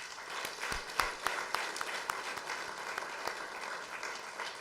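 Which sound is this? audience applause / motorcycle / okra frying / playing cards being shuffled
audience applause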